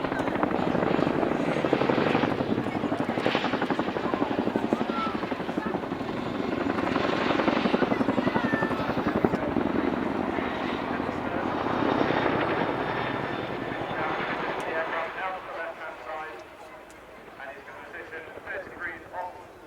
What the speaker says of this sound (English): This is a Chinook HC-6A, the earliest of which were introduced as far back as 1981